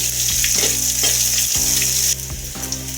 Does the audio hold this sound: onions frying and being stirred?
yes